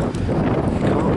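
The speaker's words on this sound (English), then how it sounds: "There we go with the wind, you see." Strong outdoor wind buffets the microphone in a steady, broadband roar with gusty swells throughout, loud and close.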